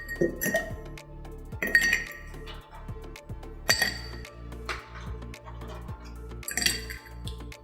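Ice cubes clink and rattle against a cocktail mixing glass holding gin and dry vermouth, in a series of bright, close taps, with quieter settling knocks between the louder clinks.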